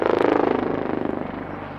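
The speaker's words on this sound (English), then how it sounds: "These maneuvers are the hallmark of a versatile helicopter which are made possible by its unique design." A helicopter performs an aerobatic display manoeuvre at the Aero India 2025 air show, its rotor beating in a loud, steady, fast chop that slowly fades as it moves away.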